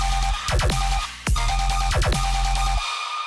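A dense dubstep mix plays loud and close, its bass and synth layers punched by sharp, repeated snare hits stacked with a reverb-soaked clap, cutting off abruptly at the end.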